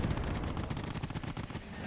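Rapid cannon fire from OT-810 half-tracks in the video game Wargame Airland Battle, a dense, continuous burst of gunfire with explosions layered in a loud battle mix.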